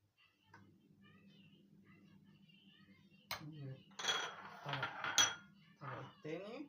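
A dessert layer going into dishes, a run of clinks and scrapes of utensils against the dishes that grows busier toward the end over a quiet background hum.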